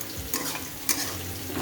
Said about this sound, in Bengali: এইটা ভালো করে শুকিয়ে নাড়িয়ে চাড়িয়ে নেব